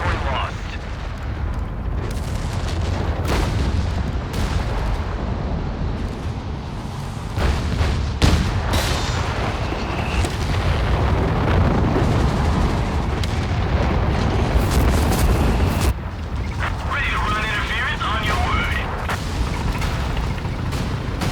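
Artillery barrages and explosions in a Company of Heroes style 3v3 match on the Mignano map, a steady roar of overlapping booms and crackling blasts running throughout, loud and continuous with bursts of gunfire.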